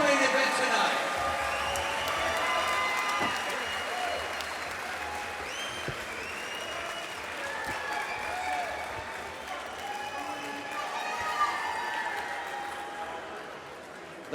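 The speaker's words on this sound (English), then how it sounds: "a big round of applause for these fighters in our championship co-main event tonight" A crowd at a championship co-main event boxing match claps and cheers for the fighters, sustained broad applause through the whole stretch, with voices mixed in throughout.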